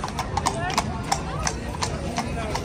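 Horse pulling a tanga carriage through Blackpool, hooves clip-clopping in a steady quick rhythm, close and clear, with people's voices faintly in the background.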